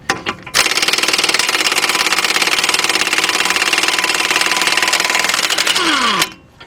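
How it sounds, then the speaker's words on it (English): A cordless impact gun with a 36mm socket hammers a large nut loose on a 2010 Honda Accord front end. It makes one sustained burst of rapid, loud, buzzy rattling for about six seconds, then stops. "having air tools or a cordless impact gun, take it"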